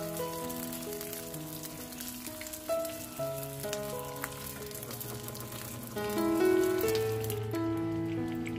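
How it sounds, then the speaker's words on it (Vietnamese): Rice paper rolls filled with leftover rice, egg and vegetables fry in oil, giving a steady crackling sizzle under a bed of background music. "Cái này mình chỉ chiên sơ qua cho nó vàng nó giòn"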